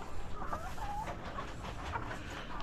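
Backyard chickens cluck at a feeding, with several short calls over steady, busy farmyard noise and no talking.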